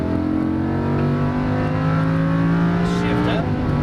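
A Lamborghini Huracan accelerates hard on a race track, its engine a loud, steady roar with rising harmonic tones throughout, close and continuous, with a voice talking over it.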